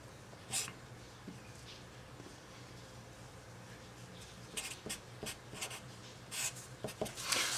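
Pen or marker writing out a math equation for an arc length parameterization problem, with soft intermittent scratching strokes that grow busier toward the end, no talking over it.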